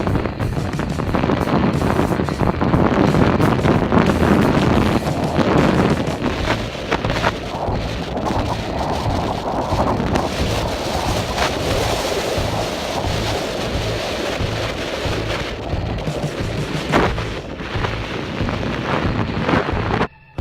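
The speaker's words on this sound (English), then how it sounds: "we got hit with the strongest wind gust I ever experienced in my life" A powerful wind gust roars into the microphone at Laguna Torre on the Fitz Roy hike in Patagonia, a loud continuous buffeting rush that barely eases over about twenty seconds.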